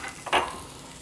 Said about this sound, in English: we'll saute this till the onions brown a bit